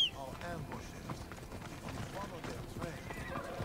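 Horse hooves clip-clop in Assassin's Creed Odyssey, a soft, steady run of hoofbeats mixed with game sounds and a voice, plus a brief whinny-like call near the end.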